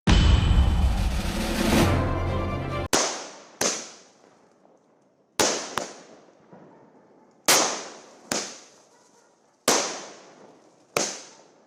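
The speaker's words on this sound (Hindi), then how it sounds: "रात 8 बजे के बाद चहल ने अपने आवास के बाहर आतिशबाजी की।" Diwali fireworks set off outside a residence at night: a long crackling burst of firecrackers followed by about eight sharp, separate loud bangs, each echoing and fading before the next.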